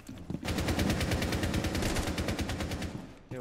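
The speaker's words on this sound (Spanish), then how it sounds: "Me siguen disparando." Rapid automatic gunfire from Rainbow Six Siege, sustained and loud for about three seconds in a steady stuttering rhythm, as shots are fired at the player during a ranked match.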